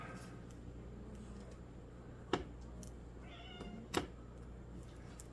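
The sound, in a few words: cat meowing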